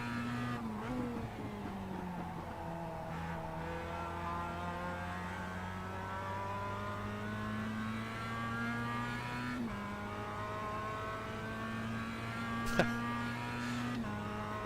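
A race car engine from the iRacing sim racing game drones at high revs throughout, shifting pitch with gear changes and throttle, with a sharp click or knock near the end and no talking.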